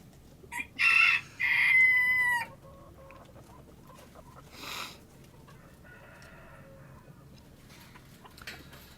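Farm chickens with a rooster crowing twice in quick succession nearby, followed by scattered clucks and a short squawk, in a quiet outdoor barnyard setting.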